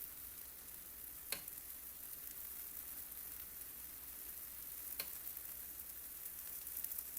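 Orange blueberry pancakes cooking on a griddle give a faint, steady hissing sizzle, with two brief sharp ticks breaking the even texture; quiet and close, no voices.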